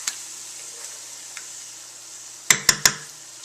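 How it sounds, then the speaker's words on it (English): Whole peeled tomatoes with their sauce hit a hot pan and fry with a steady, soft sizzle, followed by three sharp metallic clanks from the can or utensil against the pan. "I need my whole peeled tomatoes with the sauce. Just dump that whole thing in."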